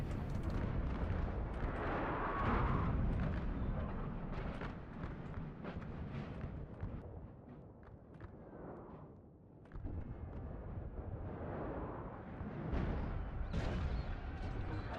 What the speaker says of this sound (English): A lot of artillery shooting